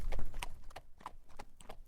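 Horse hooves clip-clop in a brisk, even rhythm, close and clear, with no voices over them.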